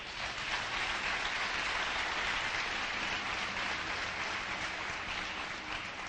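A church congregation claps loudly and steadily, dense, continuous applause filling the room from start to finish with no voices breaking through.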